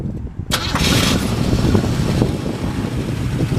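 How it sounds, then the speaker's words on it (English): A 1979 Pontiac Trans Am Pace Car, with a freshly rebuilt engine and a new catalytic converter, cranks and fires up abruptly, then settles into a loud, close, rumbling idle with some wind noise on the microphone. "We'll go ahead and fire this one up for you."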